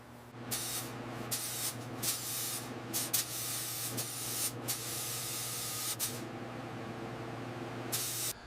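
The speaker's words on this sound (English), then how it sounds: "The primer ensures a perfect base for the final color." Primer sprayed onto a 1907 Pierce Model 65 Great Arrow during restoration, heard as a series of close, hissing bursts of varying length, separated by short pauses, over a steady low hum.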